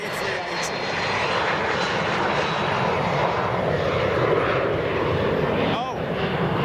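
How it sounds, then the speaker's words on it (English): Jet engines of an MD-11 airliner at Boeing Field roar loudly and continuously, a broad steady rumble with a passing tonal sweep near the end, while people talk over it. "It's actually an MD-11, folks."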